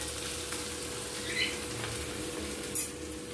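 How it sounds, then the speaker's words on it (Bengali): Bay leaf, dried chilli, cumin and onion crackle in hot oil as a tempering for a bori curry, a steady soft sizzle with a couple of brief spits and pops. "এর মধ্যে আমি এখন তেজপাতা, লঙ্কা, জিরে আর পেঁয়াজ ফোড়ন দিলাম"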